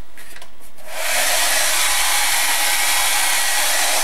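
Hair dryer switching on after a second of quiet and blowing steadily and loudly, used to dry paint on an art journal page.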